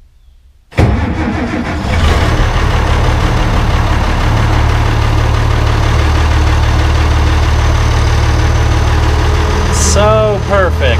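An International Harvester IH 1086 tractor engine cranks and catches after a moment of quiet, then settles into a loud, steady diesel idle, with a brief squeal near the end.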